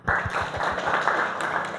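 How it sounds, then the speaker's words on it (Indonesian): Students in a classroom give a short, moderately loud round of clapping with a few separate claps at the start, lasting under two seconds. "Tepuk untuk Yola"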